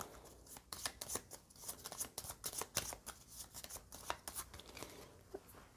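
Playing cards are shuffled for a board game, giving a close, quiet run of rapid papery riffles and taps in uneven bursts with no voices.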